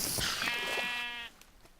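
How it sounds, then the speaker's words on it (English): A sheep in the Minecraft video game gives a single short, nasal bleat with a wavering pitch, close and clear, fading into quiet. "You go ahead and laugh at me, sheep."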